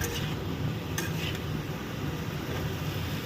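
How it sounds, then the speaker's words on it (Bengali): Cubed taro being sautéed in a pan and stirred hard the way meat is browned, giving a steady soft sizzle with scraping stirs throughout and a couple of faint utensil clinks. "একটু ভালো করে যেমন মাংস কষায় সেরকম করে কষিয়ে নেব।"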